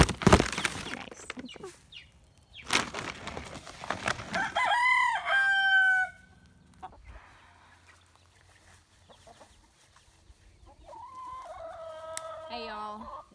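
Backyard chickens cluck and squawk at close range, then a rooster crows loudly with a long, rising call; after a quieter stretch, another crow sounds toward the end.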